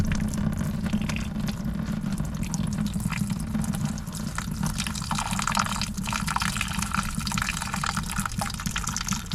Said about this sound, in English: all your coolant should pop out